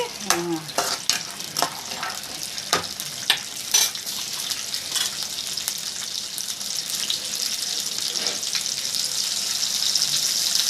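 Ingredients for raw mango pachadi fry in a pan with a steady close sizzle, broken early on by several sharp spoon scrapes and clinks against the pan.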